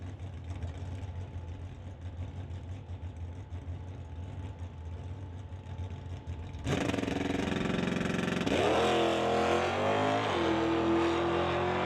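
A 1988 Fox-body Mustang race car with a 302 engine and an automatic idles at a drag strip, then launches with a sudden, loud, sustained roar that climbs in pitch as it pulls down the track.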